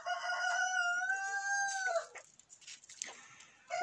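A Pushkin breed rooster crows once, a long drawn-out call, followed by softer clucking and faint rustling nearby.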